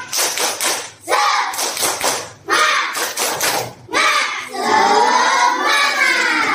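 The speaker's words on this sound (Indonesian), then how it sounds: "sebelum kita bahas kalian tepuk semangat" A class of students performing the rhythmic spirit clap, tepuk semangat, in a classroom: bursts of loud, fast clapping mixed with a group chant in the room, ending in a sustained cheer of many voices.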